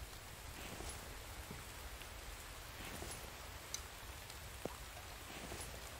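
Steady rain hiss in the survival video game The Infected, an even wash of falling drops with a couple of faint sharp taps standing out, no talking.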